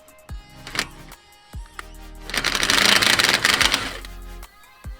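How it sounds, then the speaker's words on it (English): A wrench undoes the nut on a tie rod end of an 80 series Toyota Land Cruiser: a few sharp metallic knocks, then a quick burst of ratcheting clicks, close by and fairly quiet. "then I'm going to undo the nut on the bottom"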